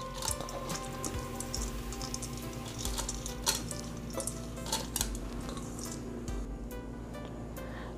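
Washed lentils pouring and rattling into a Ninja Foodi pot, a continuous patter of small grains hitting metal with scattered sharper clicks, steady and close throughout.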